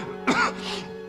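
A man gives one short, throaty cough close by, a single rough burst that fades quickly against a faint steady hum.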